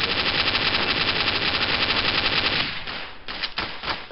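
Rapid, continuous automatic gunfire in Counter-Strike on the Dust map rattles loud and close, then breaks into a few separate bursts and shots near the end.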